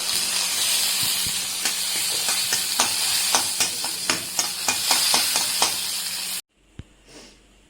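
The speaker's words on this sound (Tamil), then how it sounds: "கடுகு போட்டு கடுகு உள்ள பதப்படுத்திட்டு இந்த சட்னி துவையில் தாளிச்சிடலாம்." Mustard seeds and curry leaves tempering in hot oil for chutney, a loud continuous sizzle with scattered sharp pops and crackles, cutting off abruptly into near silence.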